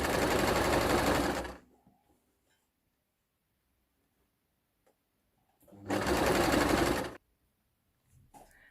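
A sewing machine stitches a seam on a tiered skirt in two loud, close bursts of rapid mechanical whirring, each about a second long, separated by quiet.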